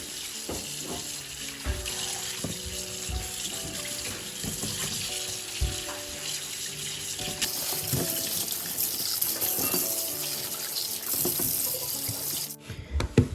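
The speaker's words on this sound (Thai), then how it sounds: "ก็จะล้างทำความสะอาดก้านเขาก่อนนะค ะ" Running water from a tap pours steadily into a sink, with occasional splashes and clinks as rhubarb stalks are rinsed under the stream.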